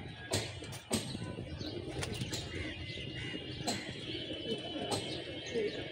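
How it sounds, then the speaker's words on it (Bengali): Pigeons flying in toward a building, wings flapping in bursts with soft cooing and chirps, fairly faint and distant against steady outdoor background noise. "এক টানে আসতেছে কবুতর"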